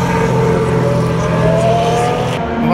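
Formula 1 race cars at the 2018 Sochi Grand Prix pass beneath a track overpass. Their engines make a loud, continuous roar with rising whine, heard from above through the structure, and no voices are present.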